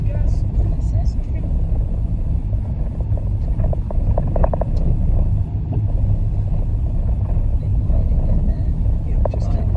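A car engine rumbles low and steady during a driving lesson as the car moves off, with road and cabin noise throughout and faint talk in the background.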